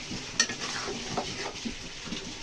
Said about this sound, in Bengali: এই যে বাগার দিয়ে দিচ্ছি।